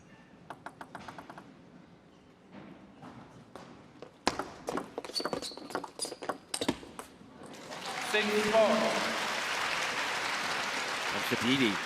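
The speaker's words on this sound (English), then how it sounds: "Fans wanting to give their support." Fans at a table tennis women's singles semifinal in Los Angeles break into sustained applause after a series of sharp ball taps, the clapping swelling into a dense wash that lingers, with a commentator speaking over the early part.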